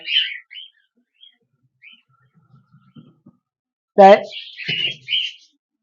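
Pet cockatiels kept as breeding pairs give short, bright chirps at the start, fall quiet, then break into a louder burst of chirping with a voice sounding briefly among the calls.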